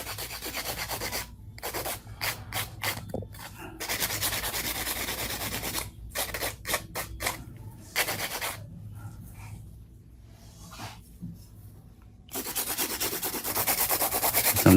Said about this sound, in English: hand filing grooves.